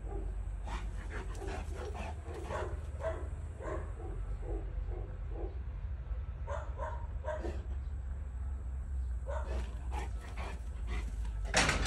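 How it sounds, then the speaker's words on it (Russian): Dogs outside near a fence bark in bursts of repeated yaps, loud and close, pausing midway before another run of barks, over a steady low rumble. "Все из-за тебя лают."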